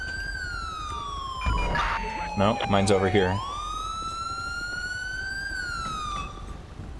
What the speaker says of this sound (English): I need to go back and turn my siren off.